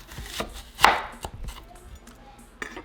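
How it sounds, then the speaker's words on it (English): A knife slicing an onion in half on a cutting board: a few soft chopping thuds, with one sharper crunching cut near the start and a light tap at the end, close and without speech. "first we're going to start by cutting our onion in half."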